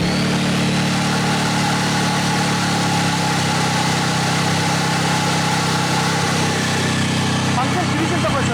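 A portable engine-driven generator drones steadily and loudly up close while powering a 220V load, its pitch dipping slightly partway through as the load changes, with no pauses.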